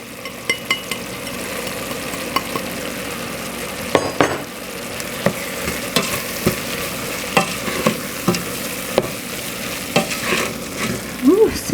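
Dry ingredients go into a sizzling pan of vegan molokhia, a steady close fry hiss with a string of sharp scraping and tapping stirring hits, a couple of brief clatters partway through.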